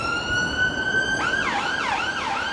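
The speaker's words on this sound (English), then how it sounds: "Oh, that's the ambulance." An ambulance siren on a London street, starting as a steady high tone and then switching to a fast rising-and-falling wail, loud and close with no talk over it.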